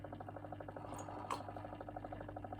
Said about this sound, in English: That noise you can hear, folks, that is the laminated printer